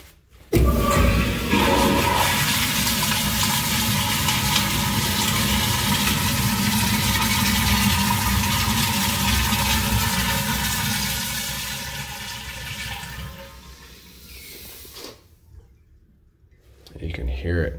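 A hacked-up flushometer on a leaking wall-hung toilet flushes with a loud, sustained rush of water that runs for about twelve seconds before tapering off, with brief clicks at the end.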